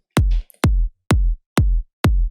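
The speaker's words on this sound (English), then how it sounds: "Here I have another kick drum." A kick drum sample with a narrow 6 dB boost in the highs, struck five times at an even pace, each hit a loud, deep, punchy thump with a short decay and a bright click on the attack.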